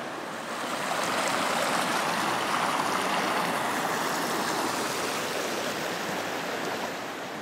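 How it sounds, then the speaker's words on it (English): Rushing river water cascades over rocks and small waterfalls in the Creuse, France, in a steady, loud roar that swells slightly and holds throughout, with no voices. "up here it's really more cascading and waterfalls anyway"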